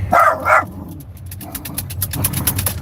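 A puppy gives two sharp, close barks, then a few softer yips and rustles follow.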